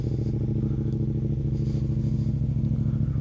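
A Yamaha XSR700 motorcycle's CP2 two-cylinder engine idles close by, its steady low throb pulsing evenly throughout.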